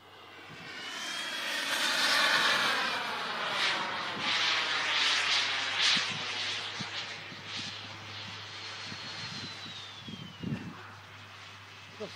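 An L-39 jet plane's engine runs with a rising and falling whine and roar that swells loudly, then eases off, with sweeping tonal pitch changes and scattered thumps.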